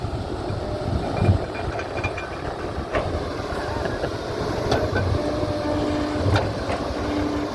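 A Kobelco SK200-10 excavator with 22,000 hours works hard, compacted ground while dredging a reservoir. The close diesel engine drones loudly and continuously, with scattered clanks and thumps.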